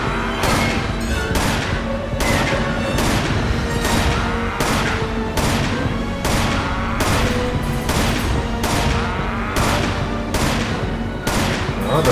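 Sustained gunfire aimed at Wesker in Resident Evil 5, fired with unlimited ammunition. The shots land loud and close in an even, repeating rhythm for several seconds with no talk.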